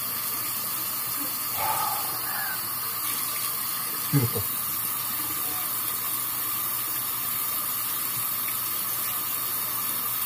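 Tap water runs steadily into a sink as a man wets his face before a wet shave with a loaded safety razor, a constant close hiss with a brief splash midway and a few short spoken words.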